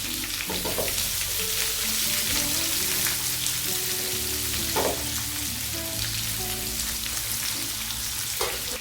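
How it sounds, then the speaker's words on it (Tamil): Large onion sautéing in a pan, a steady close sizzle with soft crackles running throughout, joined by occasional stirring clinks and scrapes and a few faint low tonal sounds in the background. "வெங்காயம் நல்லா வதங்கட்டும்"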